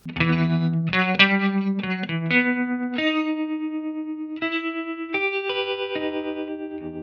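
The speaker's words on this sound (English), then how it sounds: "Right, you get that kind of tremolo." Electric guitar notes with a pulsing tremolo effect, the volume wavering rhythmically as a few sustained chords ring out, slightly gritty and clear with no talking.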